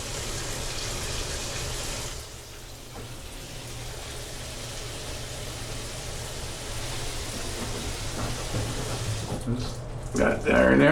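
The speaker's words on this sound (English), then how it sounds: "we're also going to turn on the hot during the shower" Hot water runs through a house's shower plumbing to decalcify the lines: a steady, close hiss of flowing water that continues throughout and swells into a louder rush near the end.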